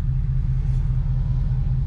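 An Infiniti Q45 V8 fitted with Nissan Titan headers idles at warm temperature with a deep, even, pulsing exhaust rumble, close up and steady for about two seconds with no talking.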